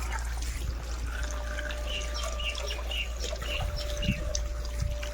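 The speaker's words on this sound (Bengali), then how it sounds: "ইটির জল দিতেছে বেশ। ইটি না ভিজলে তো সিমেন্টটা খাইতো না বেশি একটা, তাহলে ভিজে দিতেছে।" Water is poured onto house bricks ahead of cementing on a building site, a continuous close trickle and splash over a low steady background rumble.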